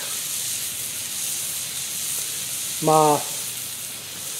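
A NY strip steak sears on a grill in a steady, loud hiss and sizzle that runs throughout, with a brief voice cutting in near the end.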